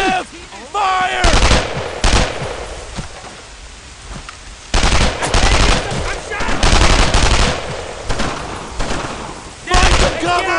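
A squad fires rifles and machine guns in a Brothers in Arms World War II game cutscene: loud, close bursts of gunfire come in several waves, with shouted voices between and under the shots.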